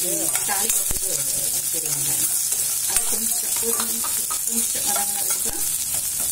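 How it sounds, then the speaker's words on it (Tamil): Large onions fry in an oil-filled pan at a Maharashtra-style dal rice cooking session, with a loud, continuous sizzle and hiss, stirring scrapes and faint voices underneath. "இப்ப வெங்காயம், பெரிய வெங்காயமே போட்டா போதும்"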